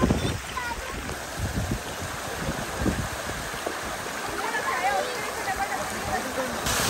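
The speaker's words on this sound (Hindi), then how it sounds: "देखें आप ये वाटरफॉल का साउंड फील करें" A roadside waterfall on the Naran route in Pakistan's northern areas, heard up close as a continuous loud rushing and splashing of water. The roar stays steady throughout with faint background voices.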